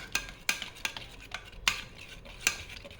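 A spoon stirs a gram flour (besan) mixture for a Pune-style colocasia leaf curry, giving quick, rhythmic scrapes and soft taps against the bowl, close and quiet, with no voices.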